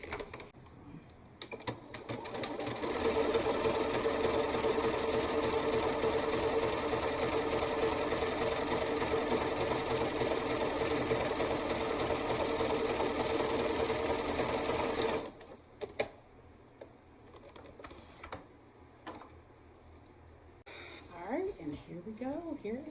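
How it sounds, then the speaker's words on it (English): Home sewing machine stitching an eighth-inch seam along an infinity scarf, a steady fast motor whir running continuously for about fifteen seconds before stopping, followed by quieter handling noises and brief talk. "We're just going to sew right along there, about an 1/8-inch seam allowance, and this scarf will be done."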